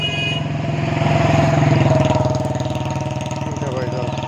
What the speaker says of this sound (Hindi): तो अभी बाइक वगैरह वाला आ रहा है एक।